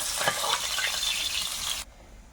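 Food fries in hot oil in a kadai, a loud, dense crackling sizzle with stirring that runs steadily for nearly two seconds and then cuts off abruptly.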